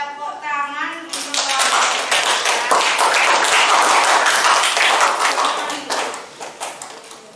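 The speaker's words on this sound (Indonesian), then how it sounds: "Tepuk tangan untuk" A group of listeners at a classroom presentation claps in a brisk, crowded burst that lasts several seconds, following a short voice at the start.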